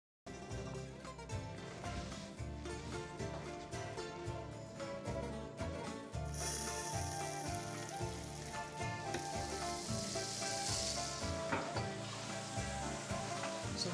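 Hot oil in a heated pot sizzles and crackles steadily in a Greek kitchen in Messinia, a dense continuous frying hiss that swells brighter partway through as something is added, close and fairly quiet with no voices.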